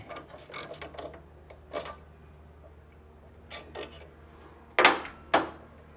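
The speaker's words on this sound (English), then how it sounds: "I had to go get my 1/2-inch drive ratchet in this 5/16 hex socket here to get this bad boy loose" A 1/2-inch drive ratchet with a 5/16 hex socket clicks in short bursts while loosening a tightly torqued bolt on a motorcycle, close-up ratcheting with sharper knocks near the end.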